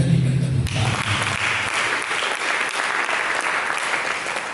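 A church congregation breaks into applause during a sermon, a brief tail of voice at the start giving way to steady, dense clapping that fills the room.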